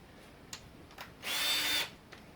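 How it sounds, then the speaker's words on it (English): A Ryobi power drill spinning to prime an engine's oil pump during a Ford ZF Fairlane restoration, one close whirring burst of about half a second between quieter clicks. "It's not too good for your drill, particularly a Ryobi one that's not really industrial quality"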